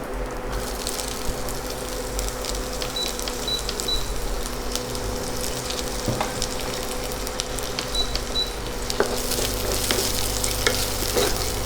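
Chopped onion fries in hot oil for a fish and tomato curry, with a steady close sizzle and intermittent stirring scrapes throughout, and no voices.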